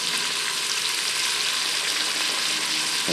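Chopped celery and garlic sizzle in an Instant Pot while being stirred, giving a steady, close hiss of frying with no talking.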